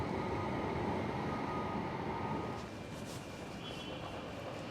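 A West Midlands Metro tram at Library tram stop gives off a quiet rolling rumble and hum that drops to a softer idle partway through, with a faint high electric whine lingering above.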